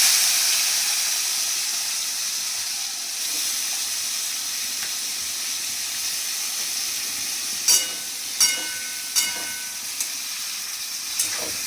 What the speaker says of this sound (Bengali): এখানে চিংড়ি মাছগুলো ভাজছি